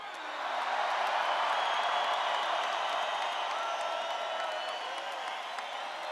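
A large political rally crowd in Colorado Springs applauds and cheers in a steady, dense roar that swells early and then holds, with no speech over it.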